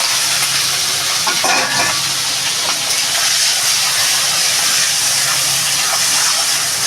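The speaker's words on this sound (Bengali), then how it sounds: "চিংড়ি মাছটা ভাজা হবে এটার ভিতরেই" Shrimp fry in a pan with elephant foot yam stalks and burnt black cumin, giving a steady, close, even sizzle with a faint stirring scrape partway through. No one talks.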